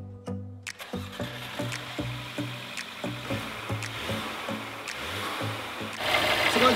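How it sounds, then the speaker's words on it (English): A Mercedes A35 AMG idles with its radiator fan, giving a steady rhythmic mechanical chugging of regular pulses, fairly quiet and close, with a broader whooshing rise near the end. "Guys, the car's running, I'm gonna leave it to warm up and check the fan."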